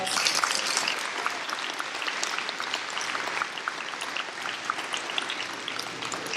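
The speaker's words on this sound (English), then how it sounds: "Let's give them a round of applause." A crowd at a school district opening ceremony claps steadily and warmly for teachers, a dense wash of applause that holds at an even level throughout.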